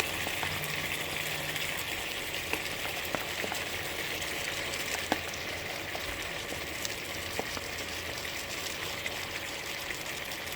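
Okra frying in a pan while cooking pakbet, a constant close sizzle with occasional faint clicks of stirring.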